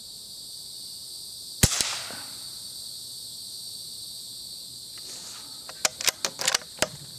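A suppressed .22 rifle fires CCI .22 Quiet ammunition: one sharp, short crack with a brief tail, then a quick run of several thin clicks and taps. A steady outdoor hiss of crickets or insects runs underneath throughout.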